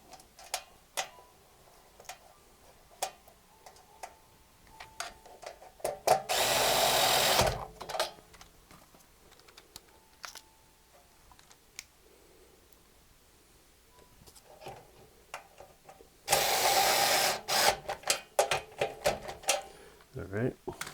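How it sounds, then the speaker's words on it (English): Screws driven with a power screwdriver into a WG K4900 arcade monitor during repair, two sustained whirring bursts of a couple of seconds each, close and loud, separated by quieter clicks and handling noise. "we just get these screws in here"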